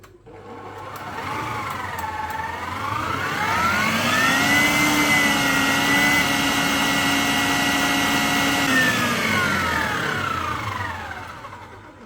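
An electric hand mixer whirs through marble cake batter with three eggs added, a steady loud motor whine that rises in pitch as it speeds up, holds, then winds down near the end.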